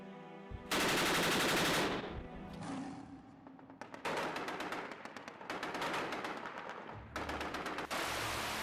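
Heavy naval guns on warships firing in loud, rapid bursts with sharp onsets and brief gaps between volleys, close and powerful throughout.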